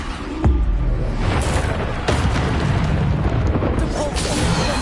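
Heavy booming impacts from the Descendo spell slamming an enemy to the ground in the Hogwarts Legacy video game, loud crashing thuds within a dense, continuous rumble of combat effects.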